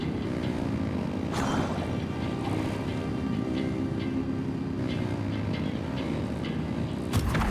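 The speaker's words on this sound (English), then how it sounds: "Rev the engines!" Engines in a video game drone loudly and steadily throughout, a continuous mechanical hum with slight swells, ending in a sharp burst of noise near the close.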